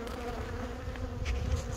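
Honey bees buzz densely at an open hive, a close, continuous drone filling the short moment without any voices.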